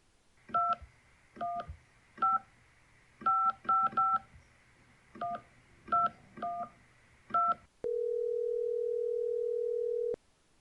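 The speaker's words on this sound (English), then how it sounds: "Dial him up, Kevin." Telephone keypad touch tones dial a number: about a dozen short, crisp beeps in uneven clusters, followed by a steady tone that holds for about two seconds and then cuts off. The sound is clean and close.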